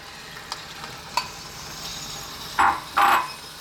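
Cooked pasta is tossed in a sausage and tomato sauce in a hot pan. A quiet sizzle runs underneath, with a few light knocks and then two short, loud scraping bursts near the end.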